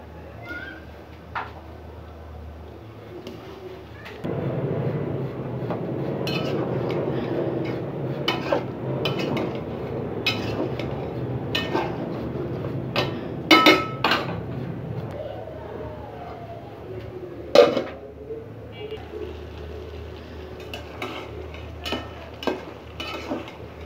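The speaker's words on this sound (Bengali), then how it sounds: "এখন দিয়ে দিব লাউ" Chopped bottle gourd tipped into a hot pan and stirred for a Bangladeshi-style prawn and gourd curry, a steady close sizzle with scraping spoon strokes and sharp clinks against the pan, the frying tapering off in the last seconds.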